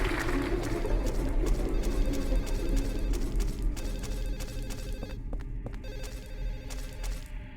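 A telephone rings in the video game Silent Hill 4, a sustained electronic ring with rapid ticking pulses over a low rumbling ambience, fairly loud and echoing as if it fills the space.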